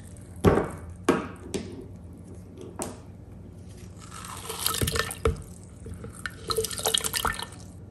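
Lemon juice is squeezed over plums and cloves for a drink, with a few distinct drips and splashes near the start, followed by softer wet squelching and trickling sounds, all faint and close.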